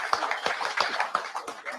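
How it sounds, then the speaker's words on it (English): Sparse, uneven clapping from a small group at a live drivers' meeting, a handful of distinct claps in loose rhythm, fairly faint. "You can clap for him."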